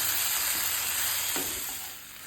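Chicken biryani masala with chopped tomato fries and sizzles in a pan, a steady bright hiss with a soft stirring scrape partway through, close and continuous, fading slightly toward the end.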